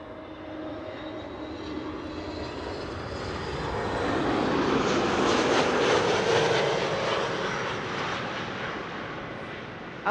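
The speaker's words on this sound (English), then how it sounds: "Shamrock, flight 604, arriving from Dublin, Ireland. A321neo up next." Shamrock flight 604, an Airbus A321neo arriving at Amsterdam Schiphol from Dublin, its engine roar swelling as it passes close overhead, peaking midway and easing off, heard alone.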